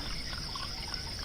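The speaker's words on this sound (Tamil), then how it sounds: "கொஞ்சமா ஊத்து" Liquor poured from a bottle into a glass indoors, a faint thin trickle of liquid running steadily over low background hiss, no talking.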